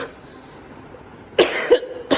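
Two or three sharp coughs in quick succession after a quiet stretch, close and fairly loud.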